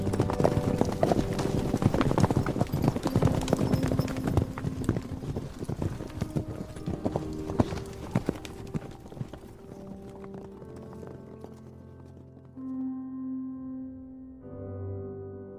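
Hoofbeats of a pair of horses setting off down a mountain road, a brisk, loud clatter that gradually fades into quieter ambience and sustained tones by the end.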